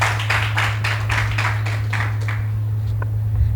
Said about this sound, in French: Mais on peut s'applaudir.